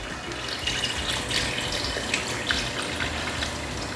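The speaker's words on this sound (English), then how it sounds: "just some water. So you just want enough water to cover this." Water poured into a slow-cooker pot over beef flank and mooli, a close, steady splashing and trickling flow lasting several seconds with small gushes, no talking.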